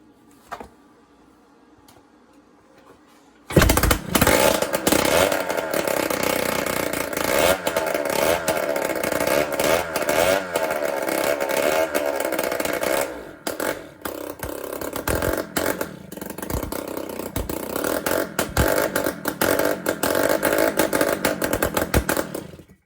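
After a few quiet seconds and a kick, the two-stroke engine of a 1978 Yamaha DT175E motorcycle, rebuilt and running on starter fluid, fires up and runs loud and close, buzzing with uneven revving, brief stumbles and dips throughout.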